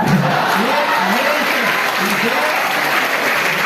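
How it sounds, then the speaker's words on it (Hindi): Audience applause at a speaking event: dense, continuous clapping from a large crowd, loud and steady throughout with no pauses. "आप भयंकर तालियां बजाना"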